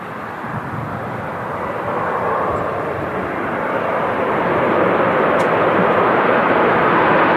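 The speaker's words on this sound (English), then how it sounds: "Nice, Malta Air next to land." A Malta Air jet, a Ryanair subsidiary, comes in to land at Manchester Airport, its broad engine roar steady and close, gradually growing louder across the stretch with no talk over it.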